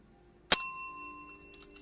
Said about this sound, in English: It's known as Jam's bell, really, or the pun bell